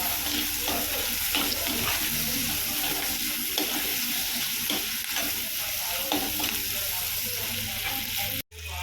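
Onions sauté with curry leaves in a clay pot for a dried-fish curry, a strong steady sizzle with frequent stirring scrapes throughout, close and continuous, cutting off abruptly near the end.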